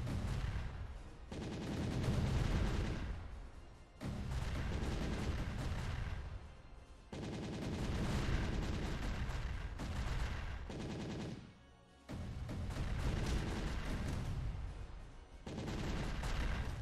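Cannon fire in the side-scrolling brawler Castle Crashers, a dense, loud run of booms and blasts layered over game music, with barely a break across the whole stretch.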